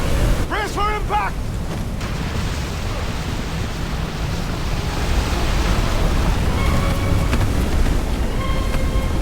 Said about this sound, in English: Storm straight from hell!